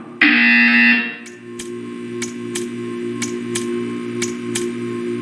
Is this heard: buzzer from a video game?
yes